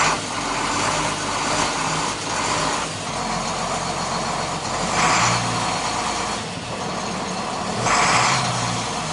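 A car engine runs steadily as gas is applied, swelling in a few broad surges over a continuous mid-range drone, fairly loud and close, with no talking.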